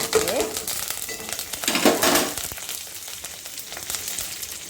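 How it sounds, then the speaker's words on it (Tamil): Mustard seeds and curry leaves crackle and sizzle in hot oil with some stirring, loud and close at first, then easing to a softer frying hiss. "கடுகு பொட்டுற டைமில் கருவேப்பிலை இட்டு கொஞ்சம் லைட்டாக கிண்டிட்டு"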